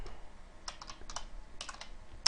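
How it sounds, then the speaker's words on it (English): Someone types on a computer keyboard, quiet and close, with clusters of light key clicks separated by short pauses and a sharper keystroke at the end. "This is actually a lot of typing for a very small project"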